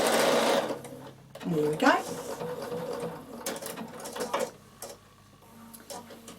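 A Bernina sewing machine stitching boiled wool for a coat runs in short close bursts between pauses, with a voice speaking briefly near the start and some handling noise.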